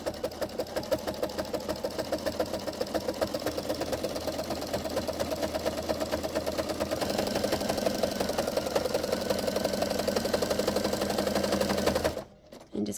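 A sewing machine stitches a jelly roll rug in a fast, steady mechanical chatter that runs close and loud for about twelve seconds, then stops abruptly.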